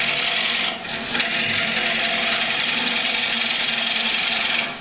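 A cutting tool shears a wooden bowl spinning on a lathe, a continuous rough, hissing scrape over the motor's hum, with a brief pause near the start.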